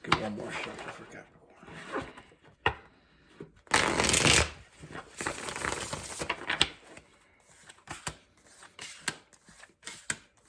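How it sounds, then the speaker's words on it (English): Tarot cards being riffled and shuffled in repeated bursts, with one loud, sustained shuffle midway, up close, and a voice talking quietly in between. "Let's get one more shuffle for Capricorn."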